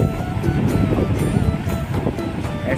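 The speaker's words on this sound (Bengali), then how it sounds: "ঢেউটা হচ্ছে, দেখো খালি কিরকম" Choppy river water slaps and splashes around a small oar-pulled fishing boat on the river at Gadiara, with wind buffeting the microphone; the sound is close, loud and continuous.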